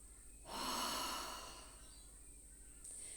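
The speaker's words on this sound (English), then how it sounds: "Another deep breath." A single deep breath during an EFT tapping exercise: a breathy inhale or exhale swells up close, then slowly fades into quiet room tone, with no talking.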